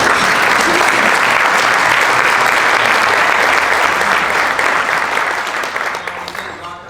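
A room full of guests at an awards dinner gives a loud, dense round of applause, sustained clapping from many hands that gradually tapers off toward the end.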